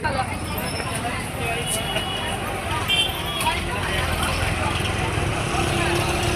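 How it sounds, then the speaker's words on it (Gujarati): Busy market crowd babble in Vadnagar mixes with passing traffic and engine rumble, a dense, continuous wash of voices and street noise with no single sound standing out. "બજારમાં ઘોઘાટ એટલો બધો થાય છે"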